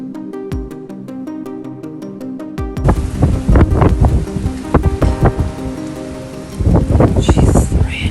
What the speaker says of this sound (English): Jesus, the rain.